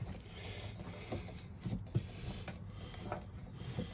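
A vehicle's front passenger seat swivel mechanism is twisted by hand, giving faint, close mechanical clicks and metallic clunks with a few louder knocks.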